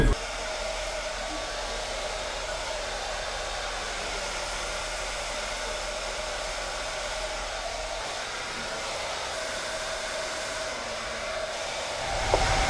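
A hair dryer blows steadily while hair is styled straight with a round brush, a loud, constant whirring drone held for the whole stretch with no voices.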